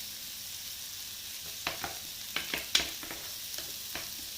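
Red onions frying in a pan, a quiet, close crackle and sizzle with scattered small pops and occasional stirring clicks, no voices.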